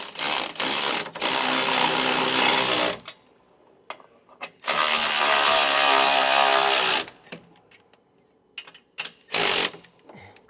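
Ratchet wrench with a 9/16 socket snugging down mounting bolts on a 2014 Tiffin Allegro motorhome during a SumoSprings install: two long, loud bursts of rapid ratcheting clicks, separated by a pause and followed by a few short clicks.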